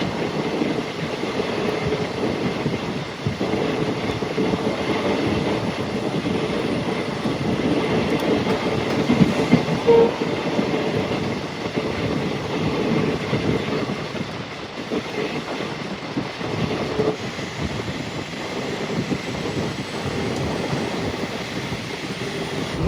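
A moving train on a route from Kolkata toward Nagaland, heard from inside as a loud steady rumble with rattling and faint clickety-clack from the rails, continuous throughout.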